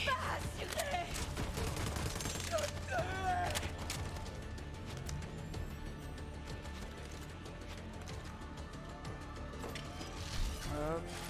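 Rapid gunfire from weapons in the video game Borderlands 3, dense bursts and mechanical clatter running continuously under game music and effects, with a voice talking over parts of it.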